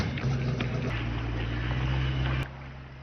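A small motorboat engine drones steadily nearby with a low, even hum and faint background noise, then suddenly drops off near the end; no one speaks.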